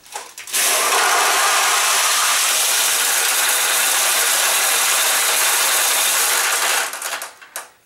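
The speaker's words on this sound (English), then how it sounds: "we'll add some balls to your supply tray, and when we do, they'll roll down this tube and into your recycler tray" Pachinko balls from a Nishijin machine clatter in a dense, continuous metallic rattle as they roll down the tube into the recycler tray, loud and steady for about six seconds before stopping.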